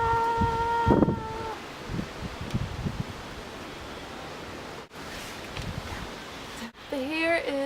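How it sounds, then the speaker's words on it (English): Wind blowing outdoors, a soft steady rush of air buffeting the microphone with brief dips, while someone talks over it. "The wind is blowing."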